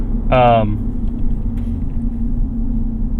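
Tires of a 2026 Ram 1500 Warlock pickup make a steady low rumble on the road, heard from inside the cab. A brief voice sounds near the start.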